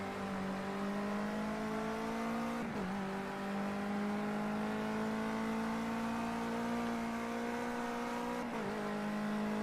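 Race car engine in Project Cars 2 climbing steadily through the gears uphill, a loud continuous rising whine with two brief dips at gear changes, no talking.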